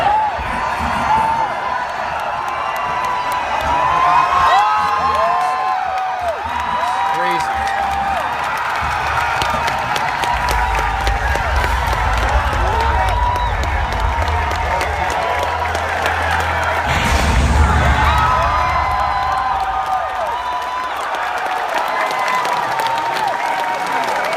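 A large crowd at an E3 presentation cheers and applauds steadily and loudly, with whoops and shouts rising over sustained clapping and a swell near the end.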